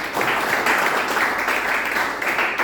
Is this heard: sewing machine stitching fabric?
no